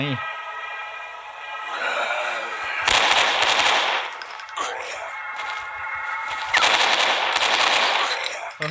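Gunfire in the horror game Motherbirb comes as several loud bursts of rapid shots separated by short gaps, mixed with tonal game sounds and beeps, while a player talks over it.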